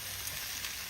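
Shrimp sizzle in hot oil with onion and garlic for Jamaican-style pepper shrimp, a dense, steady crackling hiss that is close and loud, with no voices over it.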